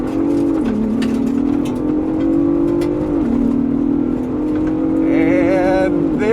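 A 2024 Ford Bronco Raptor launches hard on dirt after a brake boost, its engine roaring loud and close, pitch climbing through the revs with a brief dip at each gear shift and gravel noise underneath.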